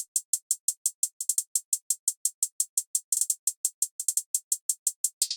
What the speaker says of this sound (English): For the hi-hat pattern, we are using one from a Cymatics kit called the Blitz hi-hat.